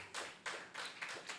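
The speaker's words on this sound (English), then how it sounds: "Clap it up for Yahweh Shai" An audience claps in a quick burst for a man at a religious gathering, with a few sharp hand strikes in uneven rhythm, faint and somewhat distant.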